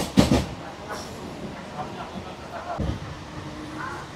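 Local train running along the line, a low steady rumble with faint rattling heard from inside the carriage.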